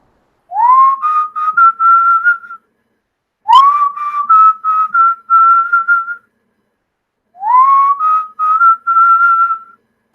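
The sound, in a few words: person whistling while tightening bolts with a ratchet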